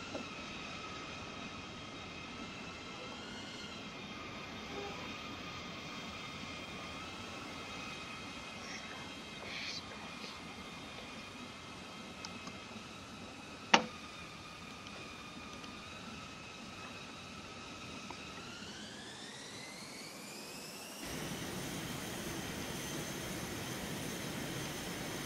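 Steady roar of an F-4 Phantom military jet engine in a video game flight simulator, a constant whine with harmonic tones that rise in pitch near the end, one sharp click midway, no talking.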